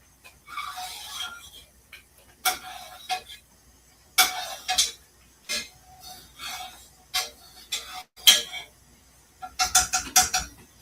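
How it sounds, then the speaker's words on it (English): A spoon stirs bubbling mango jalapeno jelly in a pot, making sparse, irregular scrapes and clinks against the metal in short bursts separated by quiet gaps. "And now you notice when I stir that, it's all bubbling when I stir it."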